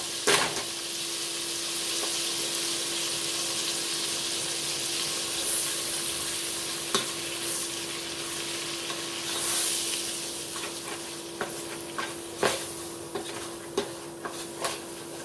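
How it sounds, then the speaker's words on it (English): All-purpose flour cooking in a soup pot with sauteed onion for broccoli cheddar soup, giving a steady broadband sizzle with scattered scraping knocks of a utensil stirring against the pot. "Cook up that flour."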